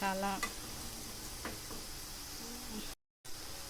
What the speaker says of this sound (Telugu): ఒక 5 మినిట్స్ ఇలానే మనము కలుపుతూ మగ్గించుకోవాలి